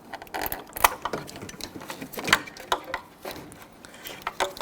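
A plastic trim tool works a large electrical connector free on a 2006-2010 Hummer H3 fog light assembly, giving close, irregular clicks, scrapes and small plastic snaps.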